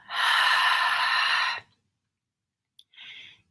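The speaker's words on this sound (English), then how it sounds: "inhale through the nose, open mouth, let it go" A long, forceful exhale through an open mouth during a guided breathing exercise, one loud airy breath lasting over a second, then silence and a shorter, softer breath out at the end.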